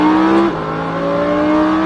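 A Lamborghini Huracan on a race circuit accelerates hard, its engine note loud and close, rising through a brief dip at a gear change before climbing again in a steady roar.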